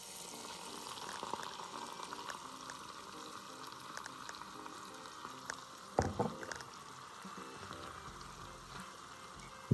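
Hot oil poured over a homemade chili crisp mixture, giving a continuous crackling sizzle with a louder bubbling burst partway through, close and fairly quiet.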